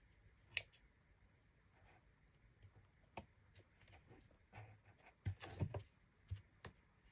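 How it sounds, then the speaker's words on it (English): Small scissors snip threads on a mixed media fabric flower with quiet, sparse clicks and snips, a few isolated cuts and then a tighter cluster near the end, all faint and close. "I just snip these bottom threads and just release the edge of this"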